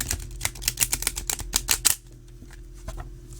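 A deck of chunky new archetype cards being shuffled by hand, a quick run of close crisp riffling clacks lasting about two seconds before stopping into quiet.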